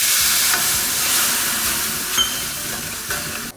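Onions frying in a pot give off a steady, close hiss of sizzling, broken by a few soft scrapes and stirring knocks, with no talk.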